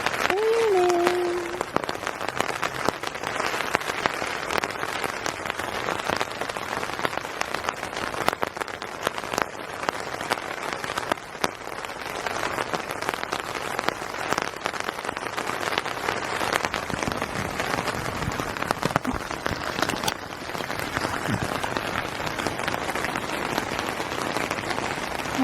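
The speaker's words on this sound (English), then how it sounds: "It's raining." Steady rain falls outside a tent pitched in a back garden, a soft, even patter of drops continuing throughout at moderate level, with a brief faint voice near the start.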